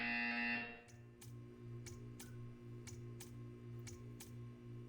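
A loud electronic tone stops, then a sharp buzzer pulses repeatedly in an even rhythm, about seven short blasts over a low drone.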